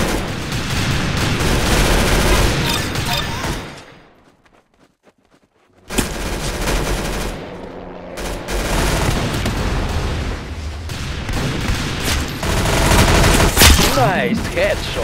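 Dense, continuous gunfire bursts and explosive booms from the Roblox shooter game Arsenal, loud throughout apart from a sudden near-silent gap of about two seconds, with game music or effects layered in.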